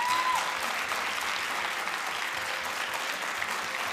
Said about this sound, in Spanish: Un aplauso para mamá.